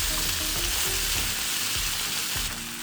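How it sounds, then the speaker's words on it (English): Bok choy and napa cabbage stir-fried with soy sauce for Korean jjamppong, a loud continuous sizzle in a hot pan with intermittent low stirring knocks, close up and without talk. "Then add 1 tablespoon of soy sauce and continue to stir fry."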